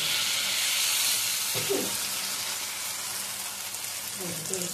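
Potol curry with spices frying and being sautéed in a pan, a continuous loud hiss and sizzle, with brief stirring and scraping sounds near the middle and end and no voices heard.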